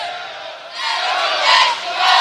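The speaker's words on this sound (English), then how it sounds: "And you hear the crowd" A loud gymnasium crowd at a high school varsity basketball game, the student section chanting in unison after a missed free throw airball, sustained roaring and cheering that swells and stays intense.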